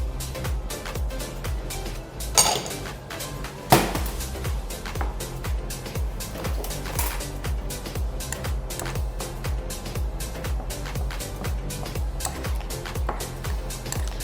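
A knife chops an onion on a cutting board, a fast, steady train of crisp taps that runs the whole time, with a couple of louder knocks mixed in.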